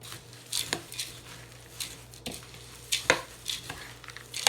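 A spoon stirs a vegan granola mixture of nuts, fruit, coconut flakes and coconut oil, making close, dry scraping and clattering strokes in an uneven rhythm against a faint background hum.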